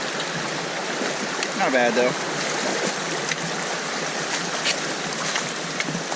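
Steady rush of a fast, cold creek running around the legs of someone wading a knee-deep crossing on a forest trail, constant and close, with someone briefly speaking over the water.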